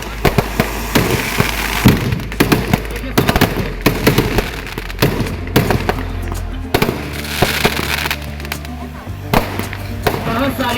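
Fireworks at the Dewa Sharif fair ground, with anar fountains and spinning charkhi wheels: dense crackling bursts and sharp pops over a steady low roar, close and loud throughout, with a voice talking and crowd noise underneath.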